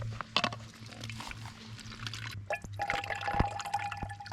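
Water is poured and trickles while refilling bottles on a mountain hiking trail near a summit, faint splashing and dripping with a rising fill tone toward the end, heard close over quiet outdoor ambience.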